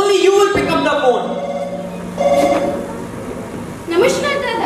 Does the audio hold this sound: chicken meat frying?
no